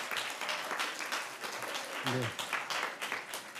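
A church congregation on a Sunday service claps in a soft, diffuse round of applause, heard faintly and at a distance, with a brief spoken word partway through.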